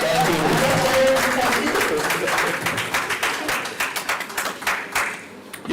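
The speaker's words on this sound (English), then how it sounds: "Applause to Rudy." A small group applauds, the clapping steady at first and then thinning into scattered claps, with some voices mixed in at the start.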